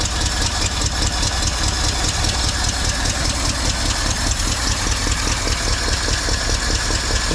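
1964 Mercury engine idling roughly with a misfire, a loud, close, steady throb with an uneven pulsing rhythm throughout and no talk.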